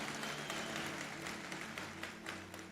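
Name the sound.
audience applause in church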